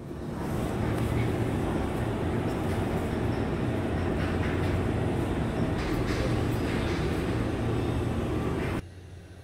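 A train running steadily along the rail line as it pulls into Yeongju station in North Gyeongsang, Korea, a continuous loud close rumble with faint rail clatter that cuts off abruptly near the end.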